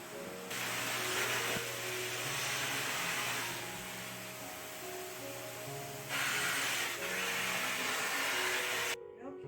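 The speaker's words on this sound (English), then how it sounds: "I'm going to vacuum them up right now" A vacuum cleaner runs steadily and loudly, sucking up dust bunnies and dead bugs from behind and under a couch, its broadband roar holding for several seconds, dipping briefly, then cutting off near the end.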